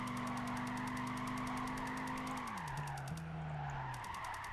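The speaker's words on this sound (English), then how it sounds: "It's one of the easiest cars to drift around in" Tires of a Dodge Viper SRT10 squeal and skid as the car drifts in Gran Turismo 5, a loud continuous screech over the V10 engine's droning note, which drops in pitch partway through as the slide eases.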